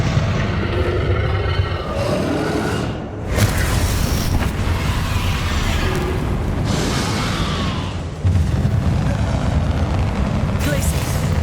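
Confringo blasting spells in Hogwarts Legacy set off loud, booming explosions one after another, with dense rumbling bursts and spell effects filling the whole stretch.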